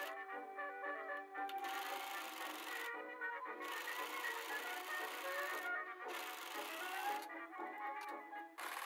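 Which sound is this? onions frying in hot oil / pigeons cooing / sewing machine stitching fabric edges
sewing machine stitching fabric edges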